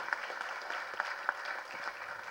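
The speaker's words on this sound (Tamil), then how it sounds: "கருணா சாருக்கு நல்ல மிகப்பெரிய கரகோஷம் கொடுங்க, இந்த அரங்கமே அதிர மாதிரி கொடுங்க" Faint, steady applause from an audience in an auditorium at a Tamil movie trailer launch, with a few sharper individual claps standing out over the continuous patter.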